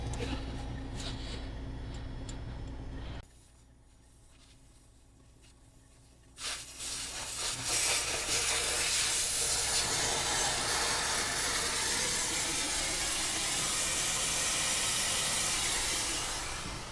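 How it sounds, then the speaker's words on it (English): Air hisses from a truck tire with its valve core removed, a steady close rushing hiss that drops away briefly, then returns louder and broader and keeps streaming on without pause. "The air you hear coming out is coming from the outside tire. I just took the core out."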